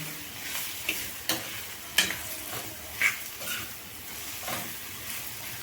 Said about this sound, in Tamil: எல்லாத்தையும் ஒன்று சேர நல்லா வதக்கி விட்டுருவோம் அந்த எண்ணெயில் சிம்மிலையே நல்லா வதங்கட்டோங்க